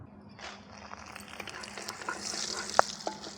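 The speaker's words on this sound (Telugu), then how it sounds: "ఎండుమిరపకాయలు వేపుకుందాం" Dried red chillies frying in a pan of hot oil for bitter gourd karam, a steady close sizzle with stirring scrapes and a few sharp pops.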